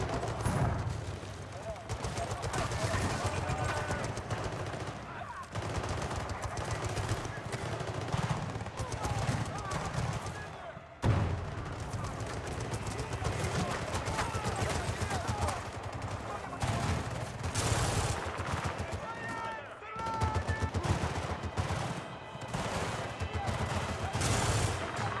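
SMG3 submachine gun fire in Battlefield 6 multiplayer: loud, rapid automatic bursts repeating throughout, with distant gunfire, explosions and battlefield clutter, and a player talking over the action.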